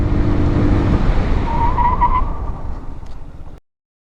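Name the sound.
scooter braking hard from 60 km/h, tires skidding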